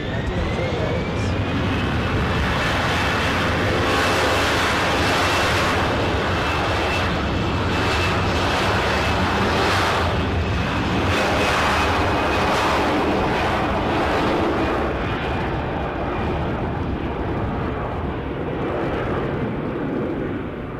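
An Airbus A320 airliner bound for Dublin at Edinburgh airport gives off a steady, loud jet engine roar with a whining tone, continuous for the whole stretch, mixed with wind buffeting on the microphone.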